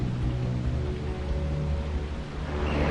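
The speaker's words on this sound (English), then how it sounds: "Caution, rain approaching." Rain falls in the video game Metal Gear Solid V, a steady, even patter and wash of droplets at moderate level filling the whole stretch with no voices.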